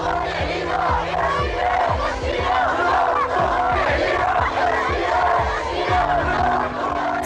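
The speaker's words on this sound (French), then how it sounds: "des milliers de manifestants descendent régulièrement dans la rue pour dénoncer le prix de l'eau" A dense protest crowd in Marrakech rallies against water prices, with massed voices chanting and shouting in a steady, loud, continuous roar that fills the street.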